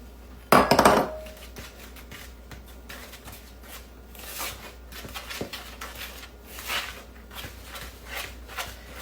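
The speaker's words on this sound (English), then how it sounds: "Now we're going to beat this up just a little bit. So we can get that eggs through all of it." Eggs beaten into lemon crust dough for lemon chess bars, a sharp utensil clatter against the bowl at the start, then steady soft scraping and stirring strokes close by.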